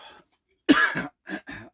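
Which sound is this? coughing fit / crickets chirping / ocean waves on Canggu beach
coughing fit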